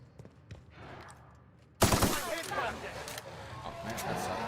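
Weapons being fired in the video game The Outer Worlds: quiet at first, then a sudden loud burst of gunfire that keeps going as rapid, dense shots, with some voices underneath.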